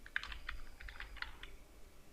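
Typing on a computer keyboard while filling in a Google Forms question paper, a quick run of light, close key clacks in an irregular rhythm that slows and fades out, faint and with no talking.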